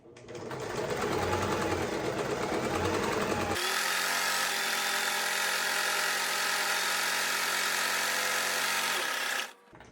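Sewing machine running steadily while top stitching along the long edge of a fabric waist apron strap, a continuous close, loud mechanical whir that shifts to a faster, brighter hum partway through before stopping.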